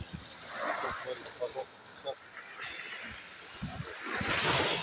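Sea surf washing onto the shore after a long workday, a broad hiss that swells and recedes, with voices talking nearby over the water.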